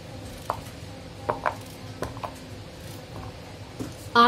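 Knife chopping peeled Totapuri mango into pieces, a few separate soft cuts and taps spread across a quiet kitchen, with a brief clatter at the end.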